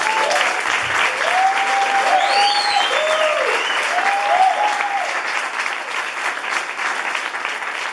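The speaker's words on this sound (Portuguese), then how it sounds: "Gente, pode dar um aplauso para eles aí." A congregation at a church camp in Belo Horizonte applauds steadily for about eight seconds, a dense, loud wash of clapping with a few voices calling out over it.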